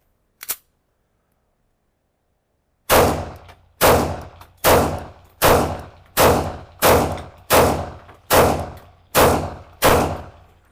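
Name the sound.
pistol gunshots, Italian-Russian handgun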